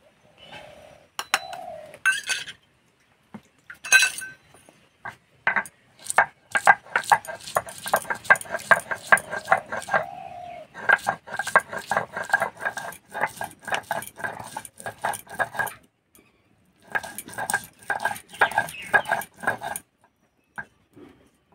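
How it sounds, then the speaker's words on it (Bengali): Ginger and garlic are ground into a paste with rapid, rhythmic scraping and knocking strokes, near and fairly loud, in bursts with brief pauses between them. "এদিকে আমি আদা রসুন বেটে নেব।"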